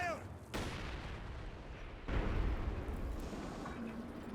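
Heavy B4 howitzer shots in Company of Heroes 2, two sharp loud blasts a second or so apart, each trailing into a long rumbling roar amid ongoing battlefield noise.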